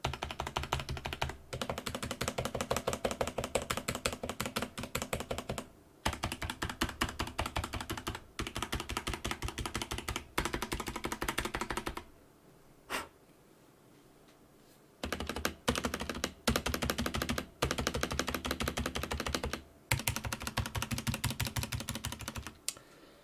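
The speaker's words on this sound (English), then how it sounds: "I'm just gonna type on this thing" Rapid clacking keystrokes on a Tecware Phantom 104 mechanical keyboard, close and crisp, in dense bursts broken by brief pauses and one longer quiet gap.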